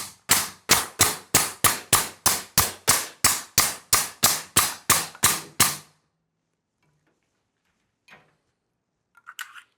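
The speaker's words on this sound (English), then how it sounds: "But I trust that staple gun" A staple gun fires about sixteen sharp, evenly spaced snaps in quick succession into a Surron Ultra Bee seat, then stops, leaving near silence with a few faint rustles.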